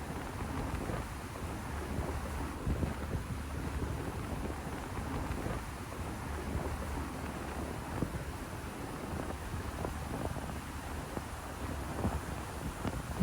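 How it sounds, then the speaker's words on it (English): Strong wind buffets the microphone on the open deck of a cruise ship sailing off Norway, a steady, loud roar with low rumbling gusts that goes on without a break and drowns out any sound from the ship. "The wind sounds pretty loud here"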